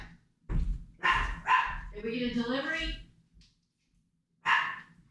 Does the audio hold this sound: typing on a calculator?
no